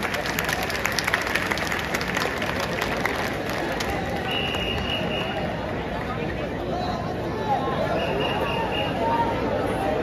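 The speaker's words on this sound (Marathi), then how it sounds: "टाळ्या" A crowd applauds at a Dahi Handi festival, with continuous outdoor clapping and babble throughout, and voices talking over it.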